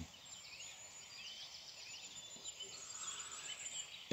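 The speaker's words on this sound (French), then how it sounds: "j'espère que vous allez entendre malgré tout le chant des oiseaux" Birds sing outdoors in the early morning, around a quarter to seven, near a road with passing cars. A faint, steady chorus of high chirps and calls carries on throughout with no talking.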